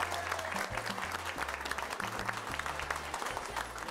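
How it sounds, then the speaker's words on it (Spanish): An audience applauds a couple with continuous, moderately loud clapping, dense and steady, while a low musical tone sounds underneath. "Vamos a darle entonces un aplauso a la pareja que me quedaba empatada."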